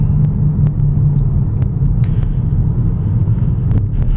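A 2011 Ford Taurus Limited driving along city streets, a steady loud low road rumble heard from inside the cabin with a few light ticks and thumps.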